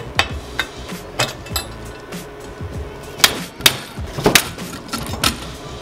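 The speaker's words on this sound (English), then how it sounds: "Now I'm going to put this back on and pop a rivet in each one of these holes." Rivets are popped into drilled holes in a steel fold-away forge, giving sharp metallic snaps and clicks at irregular intervals, some close and loud, separated by brief quiet handling noise.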